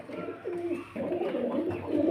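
A pair of Balli Powder pigeons cooing close by, a run of low throaty rolling coos repeating without pause.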